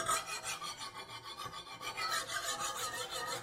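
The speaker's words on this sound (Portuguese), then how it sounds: "Se a nossa faca estiver bem temperada, ela não vai agarrar a lima vai correr solta nela" A metal file rasps repeatedly across a hardened steel knife edge in quick, regular back-and-forth strokes, sliding freely without biting, a bright, gritty scraping heard up close.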